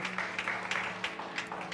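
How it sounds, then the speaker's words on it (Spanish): Audience applause for a man named Olvin during a church talk, a steady wash of clapping with brief louder bursts, moderately quiet and continuous. "démosle un fuerte aplauso a Olvin"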